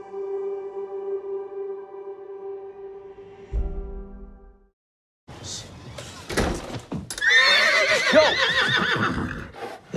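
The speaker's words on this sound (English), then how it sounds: "There's a horse in your house." Horse whinnies and snorts heard loudly in the back half, after a steady humming tone and a short silence, with busy mixed noise and possible voices around them, from a coming-of-age film segment.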